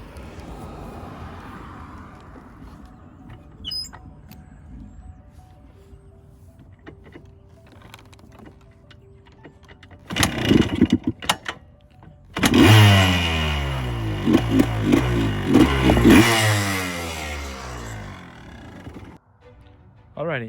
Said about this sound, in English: let's give this thing a quick start. Hopefully starts first kick